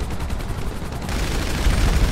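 Rapid bursts of video game gunfire in GTA V rattle in quick succession, dense and continuous, with a heavier barrage in the second half; no talking.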